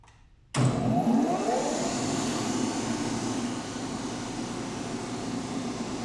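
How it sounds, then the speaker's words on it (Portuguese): A wound-rotor induction motor starts abruptly after a near-silent moment, a loud whirring hum with a rising tone as it spins up, then settling into a steady drone. "Eu vou então fazer a partida aqui da máquina, tá?"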